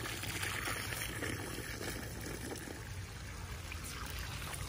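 Liquid poured into a container at a garden homestead, a faint, steady trickling stream that runs unbroken for several seconds against a quiet background.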